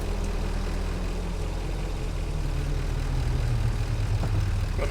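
A tractor engine in the factory-building video game Satisfactory drones loudly and steadily with a deep, continuous idling rumble, alone with no voices.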